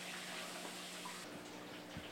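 Tap water runs steadily into a container being filled for a salt dip for aquarium cichlids, a continuous, even rushing wash close by with no talk.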